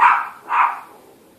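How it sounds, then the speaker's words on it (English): Two quick barks from a dog, close and fairly loud, the second slightly after a short pause, then quiet. "let's see what the dogs are barking at"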